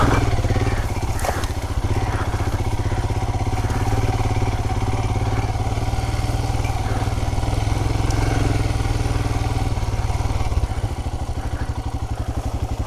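Royal Enfield Himalayan motorcycle with a Powertronic unit riding a rough track, its engine thumping steadily and loudly close up, with clatter over bumps and the note dropping slightly near the end.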